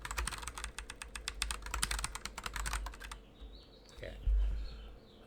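Rapid keystrokes of code typed on a computer keyboard, close and steady for about three seconds, then the clacking stops, leaving quiet room tone and a brief low bump.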